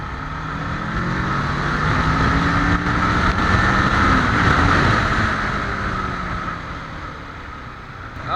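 A Kawasaki Ninja 650 KRT sport motorcycle heard while riding, its engine note rising and falling as it accelerates hard, a sustained loud drone with pitch sweeps over steady road and wind noise, no voices.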